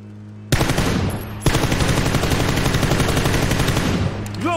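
Automatic gunfire in the PUBG battle-royale game: a brief burst, then a long sustained rapid rattle of shots for several seconds, loud and close, ending abruptly.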